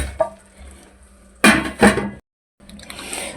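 A lid set onto a pot of palak gosht, spinach cooked with meat, giving two close, bright metallic clanks, then a brief silence and soft kitchen rattle.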